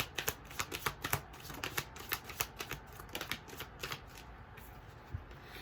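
Tarot cards being shuffled and drawn for a reading: a quick run of crisp, papery riffs and flicks in an irregular burst rhythm, close and fairly soft, with no voices.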